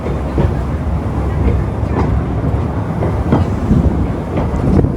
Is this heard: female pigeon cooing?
no